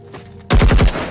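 A rapid burst of about five close, loud gunshots fires in quick succession after a brief quiet moment.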